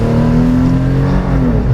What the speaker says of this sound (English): here we go, 0 to 60 in the 2015 TRD Pro 4Runner.